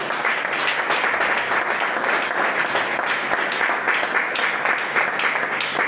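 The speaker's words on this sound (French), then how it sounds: "On peut acclamer le Seigneur pour ça." Church congregation applauding and cheering in praise of the Lord, a dense, steady wash of clapping hands filling the room with no break throughout.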